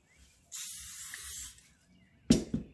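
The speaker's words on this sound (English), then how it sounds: "Spray some oil in the plate" Oil sprayed onto a plate while making thread kebabs gives a single steady hiss lasting about a second, close and fairly loud, followed by a couple of short clatters.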